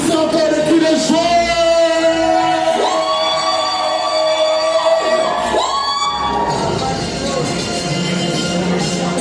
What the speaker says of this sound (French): Est-ce qu'on peut pousser encore les cris de joie?